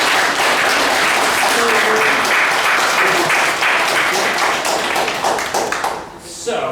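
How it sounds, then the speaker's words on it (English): Wedding guests applaud and cheer the newlyweds, a loud crowd of rapid clapping with voices mixed in, running steadily before trailing off near the end. "Should we give them another cheer?"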